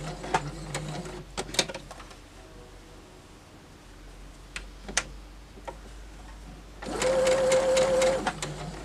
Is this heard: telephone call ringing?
no